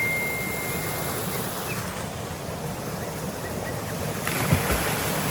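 A steady broadband rush of a flowing stream fills the scene continuously, with a soft breezy wash over it and no voices.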